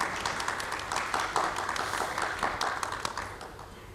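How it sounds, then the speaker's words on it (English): Audience applause at an education leadership summit's opening session, a steady wash of many hands clapping at moderate distance, sustained and fairly even throughout. "Can we have a round of applause for all of you?"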